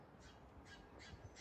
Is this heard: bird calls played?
yes